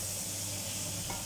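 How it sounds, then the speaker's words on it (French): Potatoes frying in a pan with peas and eggs, stirred as they brown, giving a loud, close, steady sizzle with a soft scraping stir underneath. "Et on remue comme ça, les pommes de terre vont prendre une jolie couleur."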